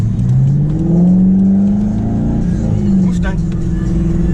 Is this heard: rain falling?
no